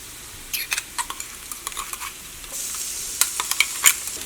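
Ginger garlic paste fries with onions in a pan for a mushroom masala curry, a quiet sizzle under scattered clinks and scrapes of a spoon stirring.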